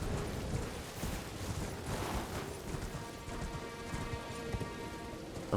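Steady rain in the Elden Ring game world, a constant soft hiss and patter that stays even throughout, faint and alone with no voices.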